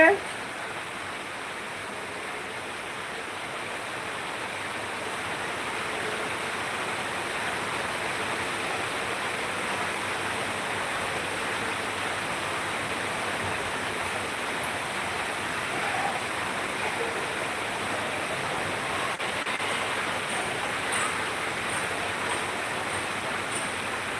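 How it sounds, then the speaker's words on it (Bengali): Steady, dense hiss of rain falling, continuous and even throughout, with faint voices now and then underneath. "অনেক সুন্দর বৃষ্টি হচ্ছে"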